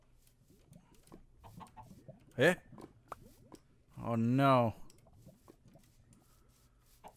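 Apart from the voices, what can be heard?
chickens clucking in Minecraft, a video game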